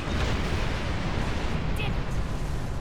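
Heavy, continuous roaring bursts of a starship's frontal assault weapon firing in Star Trek Online, a dense loud rumble sustained throughout with no pauses.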